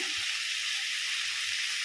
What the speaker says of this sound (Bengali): সেদ্ধ করা কাঁঠালটাকে এখন একটু ভেজে নেব